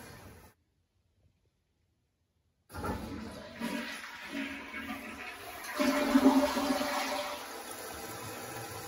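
A hands-free motion sensor toilet with a combined flush mechanism and fill valve cuts in after brief silence with a rushing flush that swells into a loud gurgling surge, then settles into steady refilling water.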